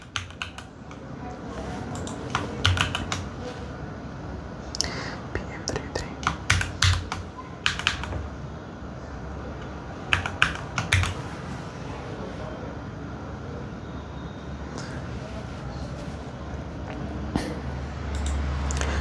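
Rapid keystrokes on a computer keyboard as a PAN number is entered into an online form, bursts of close, crisp clicks and taps spread irregularly over a steady low room hum.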